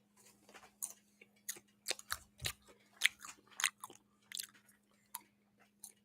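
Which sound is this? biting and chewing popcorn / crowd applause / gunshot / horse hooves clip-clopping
biting and chewing popcorn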